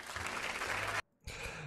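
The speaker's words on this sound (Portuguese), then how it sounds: "E o Soares ali, feliz da vida, aplaudindo o seu amigo" Steady applause from a stadium or award-ceremony crowd as Suárez claps for his friend Villasanti winning a best defensive midfielder prize, loud and continuous, dropping to near silence briefly before resuming.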